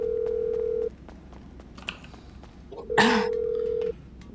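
A phone call rings in GTA Online as two long, even electronic ring tones separated by a pause, with a short burst of other game noise between them.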